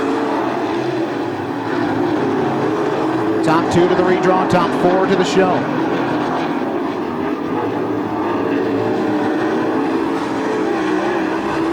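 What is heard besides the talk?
late model race cars racing at Attica Raceway Park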